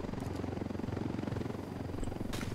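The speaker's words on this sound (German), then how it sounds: "Ich höre einen Helikopter. Heli aus Nordrichtung." A helicopter in the video game Ghost Recon Wildlands gives a continuous low, pulsing rotor thrum, fairly faint and steady throughout, with no speech over it.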